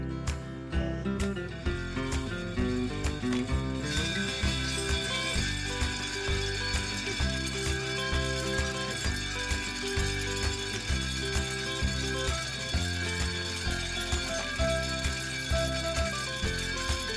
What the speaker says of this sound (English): the century-old machinery that stripped, spun, and twisted fiber into rope and twine